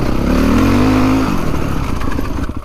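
An off-road motorcycle, either a CrossX250SE or a Crossfire450RR, revs loudly and close by on a rough trail. The engine note rises briefly, then falls into a rattling, clattering run.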